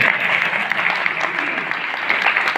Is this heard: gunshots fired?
no